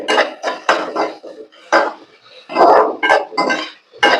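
Turmeric and salt are stirred into a raw banana stir-fry in a pan, producing a run of close, uneven scraping and clattering bursts of spoon against pan with short pauses between strokes.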